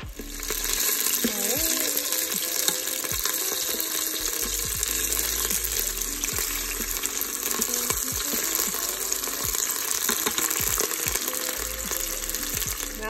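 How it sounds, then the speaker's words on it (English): Meat sizzles and fries in a pressure cooker, a constant close crackling hiss with occasional stirring scrapes, continuous and fairly loud throughout. "we're going to add our meat into the pressure cooker."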